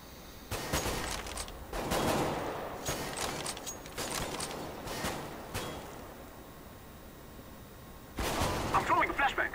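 Video game combat with a thrown flashbang grenade among repeated gunfire bursts, loud sharp cracks in clusters over steady background noise, a voice speaking in between.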